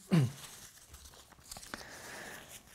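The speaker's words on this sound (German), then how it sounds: "Die Enden jeweils nach 2-3 cm Papier einreißen, auch hier das Papier einreißen und in der Mitte das Papier entfernen." Paper backing is torn from a strip of kinesiology tape, a short sharp rip up close followed by faint crinkling and handling.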